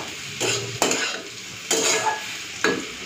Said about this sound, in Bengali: এরপরে ভাজছি উচ্ছে আলু